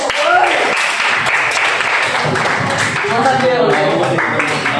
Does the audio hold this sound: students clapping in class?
yes